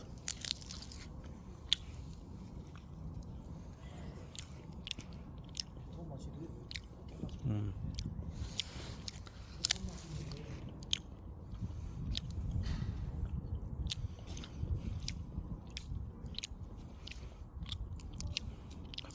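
A dried red chili pepper without its stem is bitten and chewed close up, giving repeated crunchy bites and wet mastication over steady low rustling throughout.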